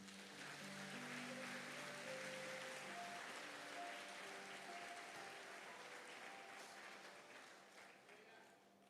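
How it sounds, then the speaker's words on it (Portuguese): Sustained applause from a large church congregation, steady and broad, with a few voices mixed in, gradually fading toward the end. "Você pode aplaudir Jesus?"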